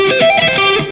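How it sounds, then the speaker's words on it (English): A quick, fluid run of distorted electric guitar notes glides across the strings in one smooth sweep-picked arpeggio, a single stroke down and up, close and loud. "we do it using all one single movement downwards and one single movement upwards."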